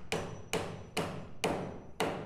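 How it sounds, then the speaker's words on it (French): A hammer drives a copper tube into a hole with five evenly spaced, sharp, ringing blows, loud and close, about one every half second with no talking. "Nous avons coupé le tube en cuivre à mesure et nous l'enfonçons avec un marteau."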